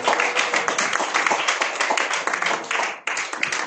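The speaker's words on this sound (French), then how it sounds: "Acclamons pour Jésus, frères et sœurs." A church congregation at Église Jésus-Revient France claps and applauds for Jesus: dense, steady, loud clapping fills the hall throughout, with a brief dip near the end before it resumes.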